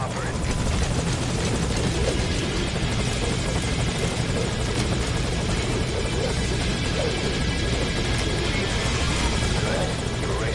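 Steady, loud helicopter rotor drone from Metal Gear Solid V runs unbroken throughout, a dense continuous roar with buzzing blade chop and no pauses.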